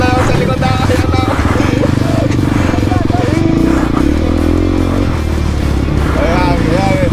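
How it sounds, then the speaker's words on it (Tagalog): Motorcycle engines rev and rasp during an enduro race, a loud continuous buzzing with shifting pitch while people talk excitedly over it throughout. "Ayan o, tinig na tinig na yung motor yan."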